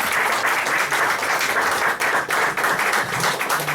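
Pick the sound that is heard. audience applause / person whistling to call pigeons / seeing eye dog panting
audience applause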